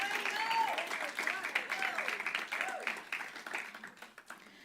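A church congregation clapping during a service, uneven bursts of applause rising and fading, with a voice speaking over parts of it.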